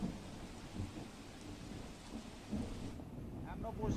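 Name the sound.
heavy rain showers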